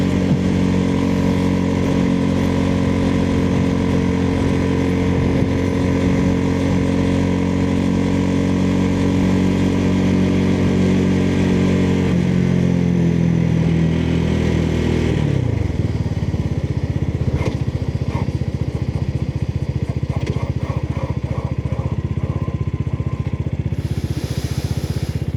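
A Chinese Venom motorcycle under way, its engine droning steadily and loudly with a whining, shifting pitch, then easing down and settling into a rougher, lower rumble with wind buffeting, no talk heard.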